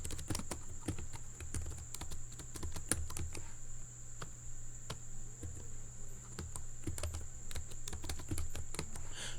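Someone typing on a computer keyboard: a quiet, irregular stream of light clicking keystrokes, sometimes in quick runs, over a constant low electrical hum and a faint high tone, with no speech.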